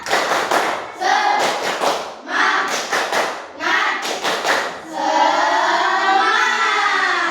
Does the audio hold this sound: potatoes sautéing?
no